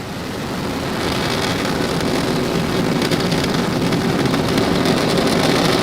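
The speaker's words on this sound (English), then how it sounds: "Ignition. And we have liftoff." A SpaceX Falcon 9 rocket on a Starlink mission roars at liftoff, a loud, steady, broadband rumble that swells in the first second and then holds continuous and undiminished.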